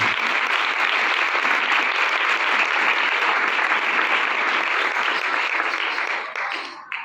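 A church congregation bursts into sustained, loud applause praising God, a dense steady roar of clapping from a large crowd that fades slightly at the end.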